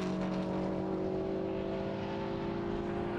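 GT Cup race cars, Porsches among them, running at Snetterton circuit, a steady engine drone with sustained tonal whine from the pack, heard at moderate distance without voices.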